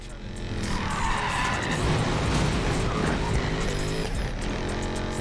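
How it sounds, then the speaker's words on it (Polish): A Pagani Huayra races in Need for Speed Payback, engine roaring with loud, sustained tire skidding and squeal across the whole stretch, dense and close. "Pagani Huayra."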